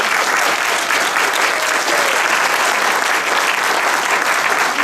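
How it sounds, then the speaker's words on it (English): Loud, dense applause fills a graduation ceremony for mathematics degree recipients, a continuous wash of clapping from a large audience with no voices on top. "why don't we give them all a big round of applause"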